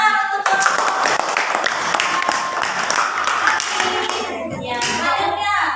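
A class applauds a group of students, with steady, dense clapping filling the room throughout and faint voices near the end.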